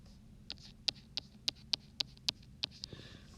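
A math equation is written out by hand in a quiet room, heard as a steady run of about ten sharp, close pen ticks and taps, evenly spaced.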